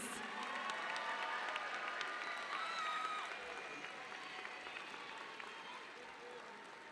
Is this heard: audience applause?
yes